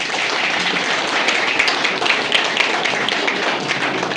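A crowd claps steadily for a recently employed government job holder at a gathering in Kahalgaon, dense overlapping claps sustained throughout at moderate loudness, with no clear talk.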